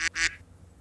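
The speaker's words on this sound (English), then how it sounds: "Do you have, like, Howard the Duck on your lap or something?" Two quick, loud duck quacks played from a chat-app soundboard, the second longer, then fading into quiet background hum.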